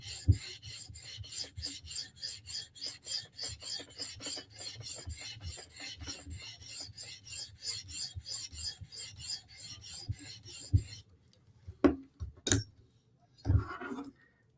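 Knives from Spartan Harsey and ZT being sharpened in a clamp-style sharpener, a steady rhythmic rasp of stone strokes for about eleven seconds, then a few isolated knocks and handling sounds.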